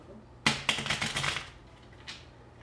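Tarot cards being shuffled, a close, rapid riffle of crisp slaps lasting about a second, followed by one soft tap and quiet.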